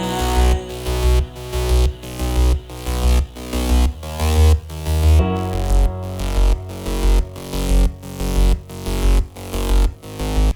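A remix drop built from the original song's chords with a synth lead and drums, loud and dense with a pumping kick-driven rhythm and a brief break midway, no voice.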